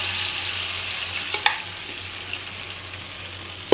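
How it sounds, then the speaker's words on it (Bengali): Vegetable stalks fry in hot oil with a constant soft sizzle and a few sharp spatters near the end, while dried shrimp and bitter gourd dishes are being made. No one talks. "এদিকে ডাটাটা তেলে দিয়ে দিচ্ছি"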